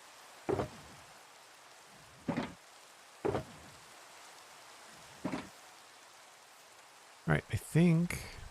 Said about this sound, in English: Because I get sick of the rain.